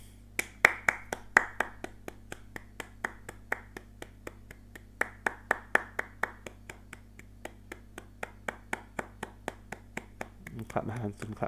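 Hands clap in a steady, evenly spaced rhythm, sharp and fairly close, for about ten seconds before a short burst of voice cuts in at the end.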